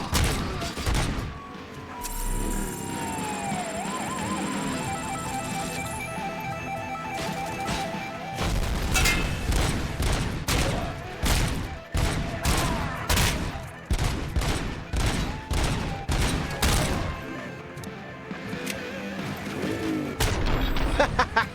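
Gunfire in RoboCop: Rogue City: dense, sustained volleys of shots, crashes and impacts pound steadily and loudly throughout, with some talk mixed in underneath.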